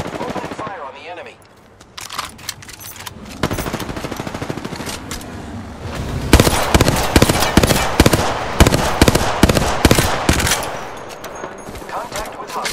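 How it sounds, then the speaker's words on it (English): Gunfire in an Apex Legends battle, with rapid automatic bursts and single shots crackling loudly and continuously, along with other game sounds and occasional voices. "Open fire on the enemy."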